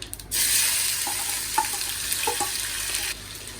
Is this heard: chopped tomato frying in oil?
yes